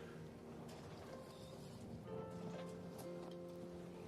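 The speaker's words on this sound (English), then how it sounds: "The sounds of the creaking ship, the water sloshing up against the sides." Water sloshes against the hull of a creaking ship in a low, steady wash, with faint hollow creaks and a soft continuous hum underneath, quiet and even throughout.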